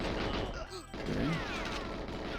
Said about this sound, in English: Let's get away from the explosions.